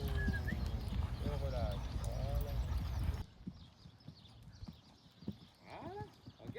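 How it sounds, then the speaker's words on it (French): A ridden horse trots on a riding school arena, its hooves clip-clopping in a steady two-beat rhythm, with snorts and breathing between strides while an instructor and rider talk over it. "Et on passe au trot"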